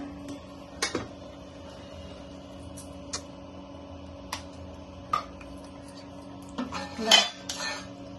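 Food including boiled egg, curd pachadi and kesari is served onto plates, with sparse, faint clinks of cutlery and dishes scattered over a quiet room, a brief clatter cluster near the end.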